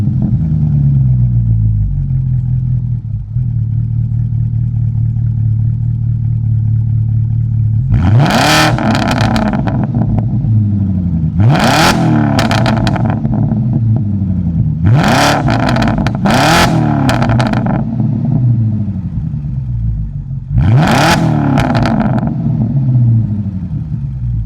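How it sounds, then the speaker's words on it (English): BMW 650i engine idling steadily, then five sharp revs that climb and fall back, loud and close with no talking. "I'm going to show you fully what this car sounds like"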